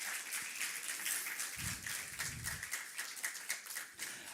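A church congregation claps in praise during a worship service, giving a dense, continuous wash of applause that holds steady throughout, with a few heavier low thumps partway through.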